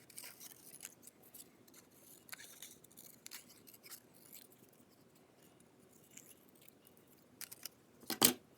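Scissors cutting paper shapes for Notan-inspired art, a series of soft, irregular snips and paper rustles close by, ending in a louder sharp snip.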